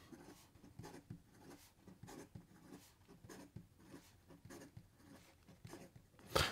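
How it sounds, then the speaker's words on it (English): Benu Euphoria Dream fountain pen writing fast with an extra fine nib on paper, a quick series of faint scratchy strokes in an uneven rhythm, close and soft, ending in a louder rustle. "And in regard to some fast writing,"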